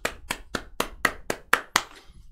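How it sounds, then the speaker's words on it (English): Clapping during a live baseball card case break stream, about eight distinct, evenly spaced claps in a quick rhythm, close and crisp, then stopping. "we want to do a round of applause"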